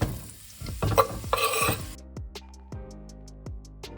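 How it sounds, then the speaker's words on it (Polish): Onion and mushrooms dropped into hot oil in a pan, a sharp burst of sizzling with a few spatula scrapes and knocks, then the frying quiets down. "Na rozgrzany olej wrzucam sobie cebulkę i pieczarki."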